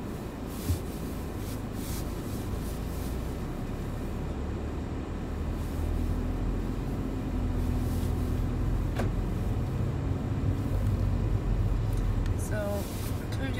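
A car driven home at night, heard from inside as a low, steady road and engine rumble, fairly quiet and continuous, with a few faint knocks and clicks.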